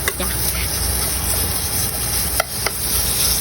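Minced pork stir-fried in a hot pan, with a steady sizzle and hiss under a scraping spatula and a few sharp clicks of utensil against metal.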